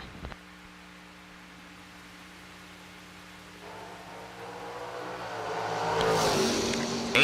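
At a drag strip, an '84 Cutlass and a Dakota pickup truck sit idling, then their engines swell into a rising roar as they launch, growing louder toward the end with no voices.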